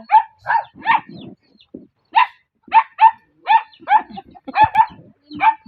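Several angry dogs bark repeatedly in quick, uneven bursts nearby, the sharp barks overlapping at times with no pause for long, in a rural Philippine province.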